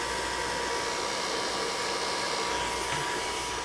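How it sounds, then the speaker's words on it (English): Handheld hair dryer blowing steadily during a round-brush blowout, a constant close whooshing roar with no breaks and no talking. "as you're blow drying, make sure you're working the ends of your hair into that round brush"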